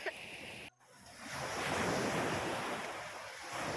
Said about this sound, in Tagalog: Maglakad-lakad muna tayo dito sa beach.